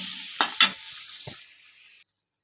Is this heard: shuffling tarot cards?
no